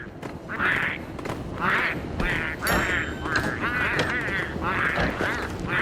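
Repeated nasal, quacking squawks from penguins in Don't Starve, loud and close, coming in a string of short bursts over a busy background.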